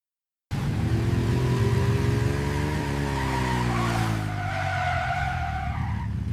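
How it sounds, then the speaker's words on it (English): A futuristic red sports bike skids to a halt in the middle of a freeway, a loud sustained tire squeal layered over engine whine, starting abruptly after a brief silence and continuing for several seconds. "A member of a bike gang dressed in red leather skids his futuristic red sports bike to a halt in the"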